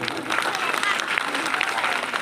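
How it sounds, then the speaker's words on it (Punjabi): Audience applause at a live Punjabi song performance, a steady dense wash of clapping from a crowd that holds at an even level throughout without pause. "ਪੰਜਾਬ ਦੇ ਨਾਂ ਤੇ ਤਾੜੀਆਂ ਮਾਰੇ"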